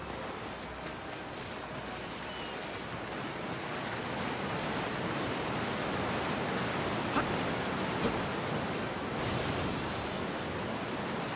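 A river in the video game Dynasty Warriors 9 Empires rushes with a constant broad wash of flowing water, steady and fairly loud throughout, swelling slightly partway through, with no voices.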